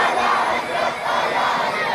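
A large crowd at a religious gathering chanting a slogan in unison, loud and close, rising and dipping slightly mid-phrase before surging again.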